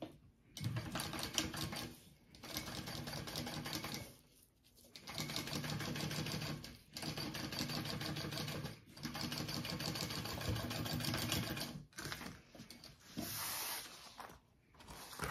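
A domestic sewing machine top-stitching along the top of a fabric backpack, a rapid close mechanical whir running in long bursts separated by short pauses, with a brief hiss near the end.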